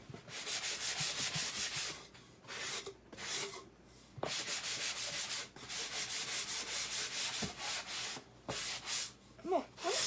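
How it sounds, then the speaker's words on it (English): Wood being hand-sanded before acrylic painting, a steady rasping scrape in repeated strokes with short pauses between, close and fairly quiet, with no talking. "this kind of wood, which, speaking of that, needs to be sanded"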